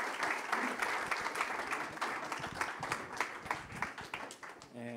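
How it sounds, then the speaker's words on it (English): A conference audience gives steady, dense applause after a talk on decentralized reserve portfolios, holding at a moderate level for the whole five seconds. "Big round of applause for Steffen."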